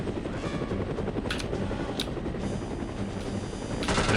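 Helicopter in the No One Lives Forever video game, a loud continuous rotor drone with a few sharp bursts that sound like gunfire cracking through it.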